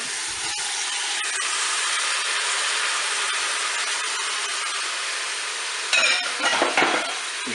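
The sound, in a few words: stirring carrots and mushrooms browning in a Cookeo pot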